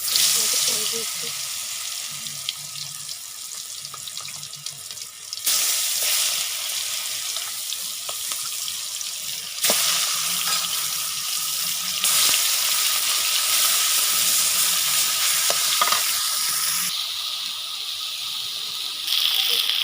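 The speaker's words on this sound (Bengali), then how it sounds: "এখন এই গোশটা ভাজবো একটু।" Meat coated with turmeric and chili fries in a pan, a bright steady sizzle with occasional stirring and scraping, close and fairly loud, changing intensity in abrupt steps as the pan is worked.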